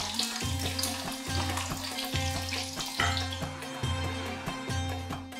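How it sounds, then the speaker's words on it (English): Fifteen chopped garlic cloves sauté in hot oil with a busy, continuous sizzle, over a steady low mechanical hum that pulses in a regular rhythm. "I have chopped 15 cloves of garlic here, which I'm going to saute"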